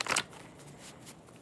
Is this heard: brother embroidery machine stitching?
no